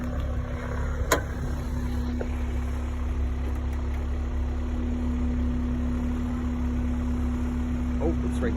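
A 2002 Honda S2000 convertible with a 2.0-liter dual overhead cam VTEC four-cylinder idles with a steady, even hum close by, with one sharp click near the start.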